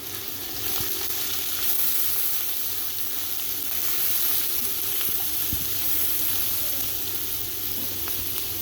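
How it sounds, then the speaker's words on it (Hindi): Chopped medium onions fry in a hot pan for potato bhujia, giving a steady, close, even sizzle with a few faint stirring knocks and no talking. "अब हम इसके अंदर डालेंगे प्याज, जो हमने मीडियम प्याज है जिसको हमने चॉप किया था।"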